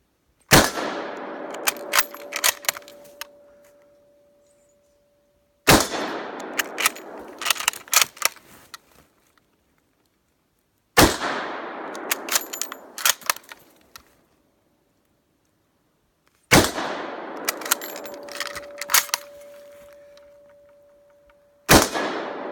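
A WW1 Berthier M16 carbine fired outdoors: four loud, sharp rifle shots spaced about five seconds apart, each followed by a long fading echo and small clicks of the bolt between shots.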